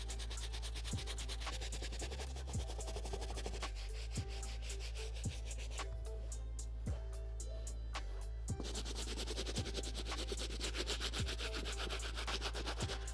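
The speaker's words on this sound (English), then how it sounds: "I do have a quick little pass over with our medium bristle brush on that outsole" A medium bristle brush scrubs a sneaker's midsole and outsole in quiet, steady rubbing strokes, close up, with a low mechanical hum underneath.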